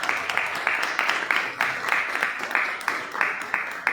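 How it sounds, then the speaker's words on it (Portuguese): A church congregation applauds the Lord in a rhythmic, unified clapping pattern, roughly two claps per second, moderately loud and evenly paced throughout. "Aplauda o Senhor, irmãos."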